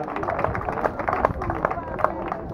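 An audience at a swimming event applauds the swimmers with light, irregular clapping from a modest crowd, fairly close, mixed with background murmur and voices.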